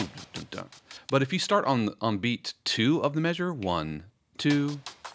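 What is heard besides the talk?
No everyday noises stand out.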